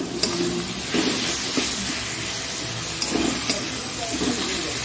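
Tomato goes into onions frying in oil in a pan while cooking a chicken curry, producing a steady close sizzle and hiss with occasional stirring clatter.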